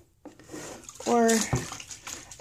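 Water sloshing and swirling in a tub as hot water is stirred to dissolve OxiClean detergent, with a brief voice and a splash partway through.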